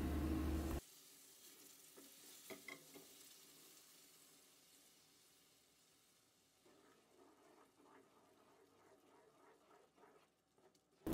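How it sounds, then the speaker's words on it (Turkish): Sugar syrup poured slowly into hot semolina halva made with vegetable oil, giving a soft, steady sizzle and bubbling that fades in the middle and swells again, quiet and close with no talking. "Elimizi yakmadan şerbeti yavaşça verelim."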